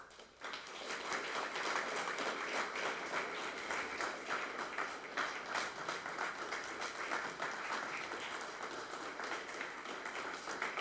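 A room of people at a LaSalle Police Services Board meeting applauds retiring police chief Chief Davies, producing a dense, steady wash of many hands clapping that swells quickly and holds evenly for about eleven seconds, with no voices over it.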